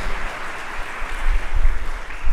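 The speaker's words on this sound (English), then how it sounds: "Give these guys a round of applause." A crowd at a realtors' event applauds veterans, a dense, loud, continuous wash of clapping that swells toward the end.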